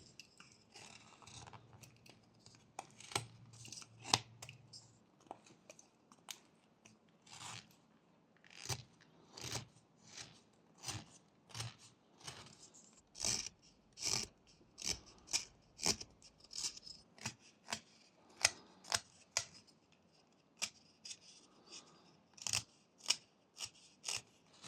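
A whittling knife shaves the sharp edges of a small carved wooden dog, giving a long series of crisp, quiet snicking cuts in an irregular rhythm with short pauses, heard close and alone.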